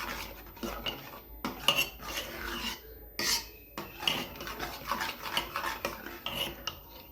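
A metal spoon scrapes and stirs thick puran, a sweet lentil filling, inside a pressure cooker, making irregular close scraping and clinking strokes against the pot with short pauses between them and no talking.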